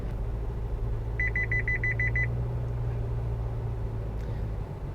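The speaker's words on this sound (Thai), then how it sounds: "เวลาที่รถเบนออกจากช่องทางเดินรถ โดยไม่ให้สัญญาณไฟก็จะมีเสียงร้องเตือน" An Isuzu MU-X 1.9 Ultimate's lane departure warning sounds a quick run of about eight evenly spaced beeps over the steady low hum of the moving car's cabin.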